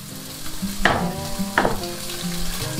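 Diced bacon sizzles and renders its fat in a cooking pot, a steady frying crackle, with two louder bursts of stirring or scraping along the way.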